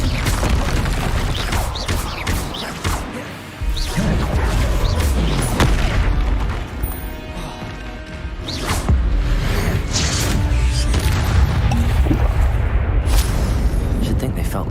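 An Incendio fire spell in Hogwarts Legacy bursts into booming, roaring explosions with whooshes, loud and sustained, alongside a speaking voice.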